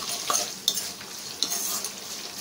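Tempering of curry leaves and broken dried red chillies frying in a pan for tomato pickle, a steady hiss of sizzling with a few sharp clinks and scrapes of the spoon as it is stirred, close and moderate.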